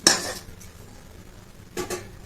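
A metal lid is set over a pot of jatka fish curry with mustard and papaya, giving a sharp clank at the start and a second rattling clatter near the end, with no talk.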